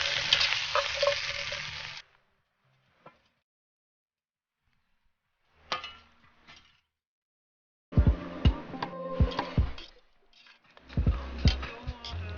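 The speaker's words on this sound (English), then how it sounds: "a fresh dinner cooked on the fire" Dinner frying over a campfire on a high-country 4x4 camping trip, heard as bursts of sizzling and stirring, loud at the start and again later, separated by quiet gaps with a few soft knocks.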